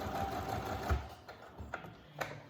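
A sewing machine stitches elastic into a child's fabric face mask in a short, close run of rapid, even stitching that stops briefly and restarts with small mechanical clicks.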